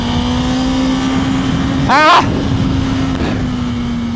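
A BMW S1000RR motorcycle rides along with a steady engine drone throughout, joined midway by a brief shout from a rider or passerby.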